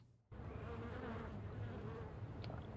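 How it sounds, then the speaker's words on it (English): Dense, steady swarm of bees buzzing continuously in a Nancy Drew video game, The Phantom of Venice, a close droning hum that starts abruptly after a brief quiet moment and holds at even loudness throughout. "Okay, we have some bees."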